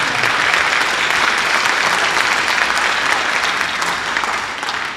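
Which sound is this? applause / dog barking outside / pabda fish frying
applause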